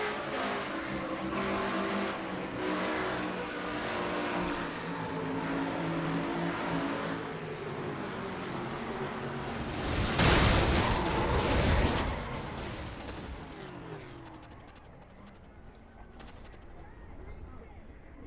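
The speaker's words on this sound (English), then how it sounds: "And you heard Levi trying to start his car back up again, but to no avail." In-car sound of the 99 race car in a racing video game, a loud engine droning and revving, then a harsh burst of noise as the car stops, followed by quieter attempts to restart it.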